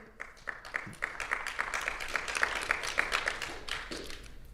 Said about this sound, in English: very sad clap